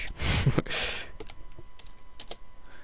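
Quick keystrokes on a computer keyboard while entering text into an online account signup form, a dense burst of clicks followed by scattered lighter taps, fairly close and with no talking.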